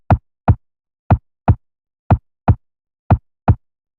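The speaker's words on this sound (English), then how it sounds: "Once again, with the enhanced low effect, the recording sounds like this." A sampled chest-beat heartbeat deepened with an enhanced low effect, four even lub-dub pairs of heavy close thumps with silence between them.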